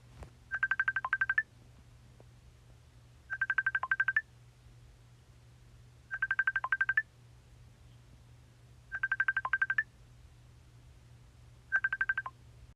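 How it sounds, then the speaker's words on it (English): Electronic telephone ringer sounding in five evenly spaced warbling bursts, each about a second long with pauses between, clear and close in an otherwise quiet room with a low steady hum. "The phone spooked you as you turned to it, the ring playing as if wanting you to pick it up."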